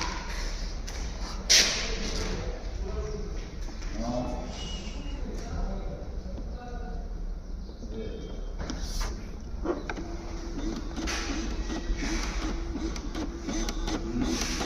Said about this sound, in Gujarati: એનું નાનકડું પ્રિન્ટર મશીન